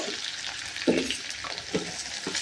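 Onions frying in a pan with cloves and cardamom make a close, continuous sizzle, with a few soft knocks from stirring and no voices.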